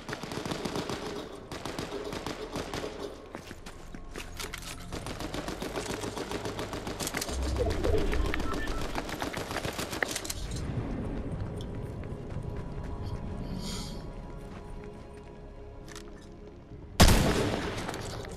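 Rapid gunfire from a new weapon in Fortnite rattles in dense bursts, pauses, resumes heavier, then ends with a single loud blast, all fairly distant under game ambience.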